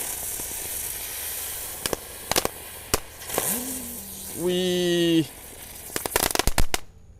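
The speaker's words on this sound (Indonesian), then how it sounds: "Selanjutnya kita nyalakan mercon teratai, kita nyalakan 4 sekaligus ya." Four blue spinning lotus firecrackers are lit at once during a Ramadan night; sharp crackles and pops, a rising whistling spin and hissing bursts sound close by, with a brief exclamation in between.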